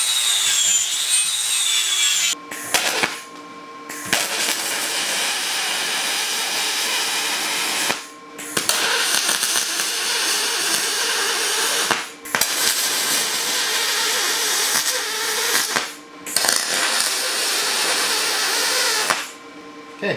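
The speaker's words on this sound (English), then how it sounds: "this is a CGW Abrasives aluminum flap disc," An angle grinder fitted with a CGW Abrasives aluminum flap disc grinds aluminum in long, loud, harsh passes, broken by several brief pauses where the tool lifts off, heard up close without talk.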